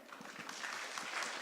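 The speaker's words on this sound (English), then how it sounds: "let's give another round of applause to Vishal." Audience applause at a blockchain conference panel in Taipei, a short burst of steady crowd clapping at moderate volume that swells slightly toward the end.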